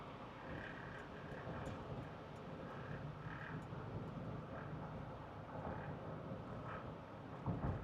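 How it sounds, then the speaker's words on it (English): Steady low road and tire roar from stock tires on a Jeep Wrangler while driving, a constant broadband hum from inside the cabin with faint wind, no voices. "This is what the stock tires are going to sound like."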